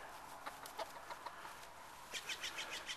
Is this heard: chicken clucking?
yes